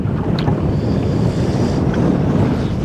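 Strong wind gusts buffeting a fishing boat anchored with a drift sock in current, a loud, steady roar of wind over the microphone with water lapping against the hull underneath.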